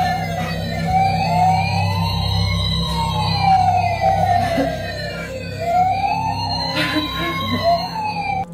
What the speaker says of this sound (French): le père de Brookie, un camion de pompiers jouet, un objet précieux appartenant au père récemment disparu, s'active soudainement de manière autonome